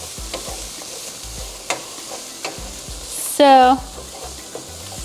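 Chopped onion is stirred into extra virgin olive oil in a pan and sizzles softly and steadily, with a few clacks of the utensil and a brief scrape. A voice speaks a single word near the start.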